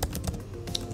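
Quick, steady clicking of keys on a computer keyboard, close and continuous for the whole second, with no voices.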